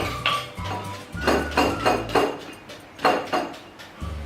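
A wooden pestle pounds chili, garlic and sugar in a mortar for Thai papaya salad, giving repeated dull thuds with clinky edges in an uneven rhythm, close up and alone.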